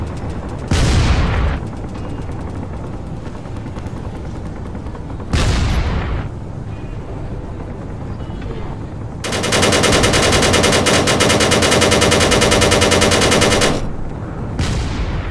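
Cannons and weapons firing in the space combat game Space Engineers: loud booming blasts roughly every few seconds, then a dense sustained burst of rapid automatic fire lasting several seconds before another blast, no talking.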